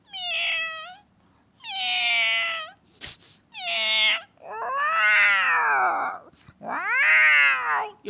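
A voice imitates two angry cats, trading five loud, close yowling meows and drawn-out caterwauls with short pauses between them.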